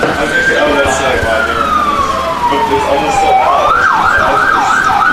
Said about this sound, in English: if you hear those sirens, those are real sirens